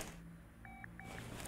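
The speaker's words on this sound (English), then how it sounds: "Oh, I got another phone call." Phone ringing in Car Mechanic Simulator 2018, a synthetic two-tone ring heard as two short electronic bursts over a steady low game background hum.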